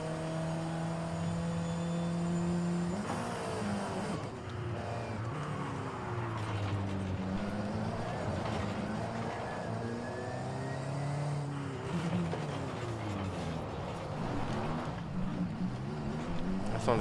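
A 2014 Alfa Romeo 4C engine in a Forza Horizon racing game, droning steadily, then rising and falling in pitch through repeated revs and gear shifts, loud and continuous with no talk.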